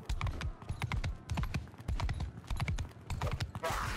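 Horse hooves galloping in the medieval combat game Mount & Blade II: Bannerlord, a rapid rhythmic drumming of close, punchy hoofbeats throughout, with a brief whoosh near the end.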